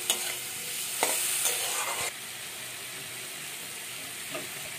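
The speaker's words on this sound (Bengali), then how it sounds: "জল দেব, দিয়ে ভালো করে কষিয়ে নেব।" Bitter gourd curry being stirred and fried in a pan with water added, giving a steady broadband sizzle with a few sharp spatula scrapes early on, then a softer even hiss.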